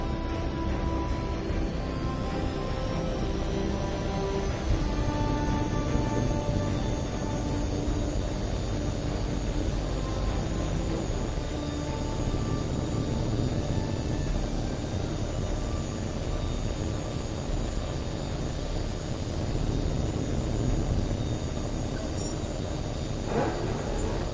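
A jet fighter in the H.A.W.X. 2 video game spools up and takes off, a steady, loud engine roar with a thin rising whine holding for the whole stretch.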